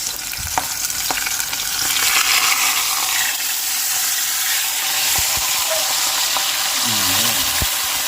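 Tilapia frying with sautéed vegetables, a loud, steady hiss of sizzling oil, broken by a few sharp clinks and a brief burst of spattering near the end.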